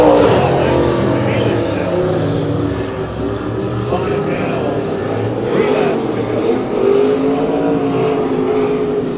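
Pro Stock race cars run a heat race on a dirt track at Kern County Raceway Park, their engines roaring and droning loudly and continuously in a dense, rumbling mix.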